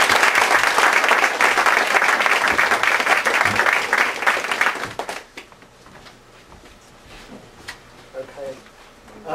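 Applause from a lecture audience greeting psychologist Keith Oatley, loud and dense for about five seconds, then fading into scattered claps and room noise.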